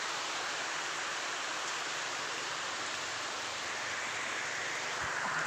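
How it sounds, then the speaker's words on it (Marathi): Steady rain in a village, a dense, even hiss of falling drops that holds unchanged throughout, fairly soft and with no voices. "या पावसाने सगळं धिंगाणच करून ठेवलेला आहे"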